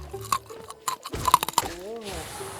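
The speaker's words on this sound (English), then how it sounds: "I hear a crunch." A crunching sound effect in a horror story, with irregular crackling crunches and clicks like chewing, followed by a creaking, warbling tone near the end.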